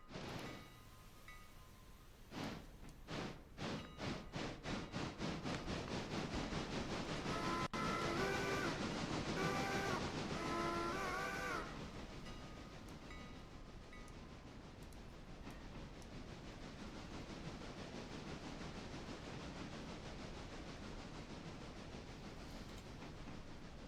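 A train runs in a railroad simulator game: quick rhythmic clicks of wheels over rail joints give way to a loud, steady rolling rumble with several brief tonal blasts midway, then a quieter continuous drone.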